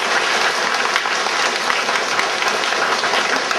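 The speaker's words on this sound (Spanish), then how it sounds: "un aplauso también para él" Audience applause at a school values festival in Rodeopampa, Huarmaca, steady dense clapping from a crowd that holds at an even, fairly loud level throughout.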